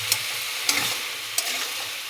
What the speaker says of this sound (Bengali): মাংসটা একটু ভেজে নিলাম